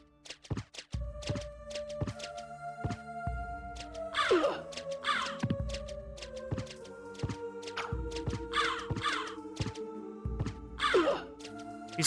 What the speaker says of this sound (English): These crows are a menace.